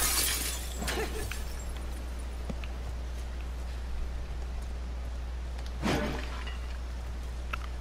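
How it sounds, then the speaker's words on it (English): Glass shattering in The Last of Us Part II, one sharp crash near the start and a second loud burst of breaking glass near the end, with faint rustling and quiet debris in between. "Break some more glass."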